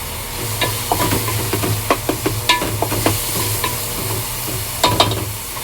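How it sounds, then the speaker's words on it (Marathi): Onion fries in a pan for a spicy masala, a steady sizzle broken by repeated scraping and clinking stirring strokes, close and fairly loud, with no one talking. "कांदा चांगला भाजायचा आहे"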